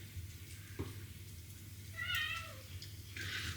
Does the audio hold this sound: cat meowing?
yes